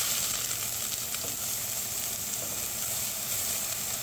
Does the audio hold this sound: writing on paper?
no